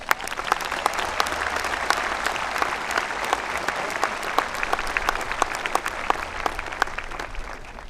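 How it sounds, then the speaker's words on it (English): A graduation ceremony audience claps in thanks, a sustained round of applause with sharp individual claps popping out of the dense crowd sound, steady and fairly loud across the whole stretch. "Please help me thank them all for their service with a round of applause."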